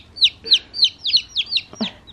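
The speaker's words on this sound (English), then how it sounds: "Easter egger chicks are adorable." Easter egger chicks, a hybrid chicken breed, chirp and peep in a quick run of about seven high, bright calls, close and clear with no talking.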